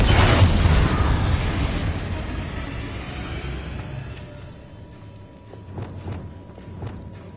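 A fiery Confringo spell blast in Hogwarts Legacy, a loud booming burst at the start that trails off into rumbling debris and scattered crackles and pops, with no talking.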